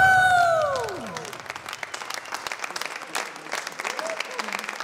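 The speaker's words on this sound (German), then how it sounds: "Ein Applaus." Audience applause breaks out at the close of a song performance on a televised Swiss song contest stage, with dense clapping and cheers as the final sung note fades. The applause stays steady and loud to the end.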